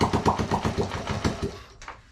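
A 1965 Honda S65 motorcycle's small single-cylinder engine idles with the choke on during a restoration, a steady rapid putter close by that sputters and fades near the end.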